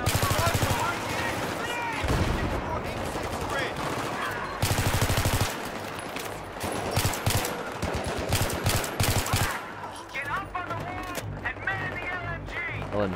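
Rapid bursts of light machine gun fire in Battlefield 3 chatter loudly and repeatedly alongside other gunfire, with a voice talking over the shooting throughout.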